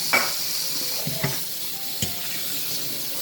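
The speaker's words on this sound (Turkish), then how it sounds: "Brokoliyi önce süzgece döküyorum. Hemen musluktan bir soğuk su geçiriyorum." Cold tap water runs over broccoli in a colander, a steady loud hissing spray with a few light clunks and knocks of the colander and florets, close by and without talk.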